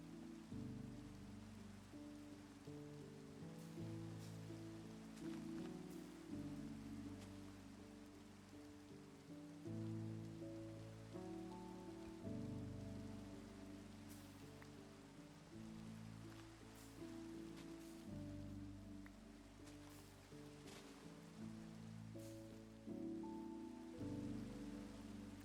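Steady, dense rain pattering across the surface in the Minecraft video game, a continuous close wash of drops with low rumbling underneath and no pauses, no talk heard.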